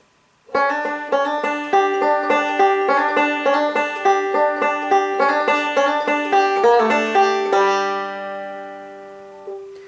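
Banjo picking the first part of break 1 of Train 45, a quick steady roll of bright plucked notes with a hammer-on, close and clear, ending on ringing sustained notes, no talking.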